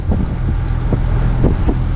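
Steady wind buffeting a microphone aboard a sailing boat heading into a headwind off the Balearic Islands, a constant low roar with gusty rushes and faint water noise throughout.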